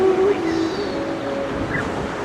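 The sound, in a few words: ocean waves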